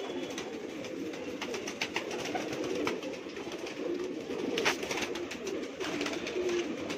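Pet pigeons in a home loft in Mumbai, a steady layer of soft cooing with occasional sharper calls and clicks, close by, with no one talking.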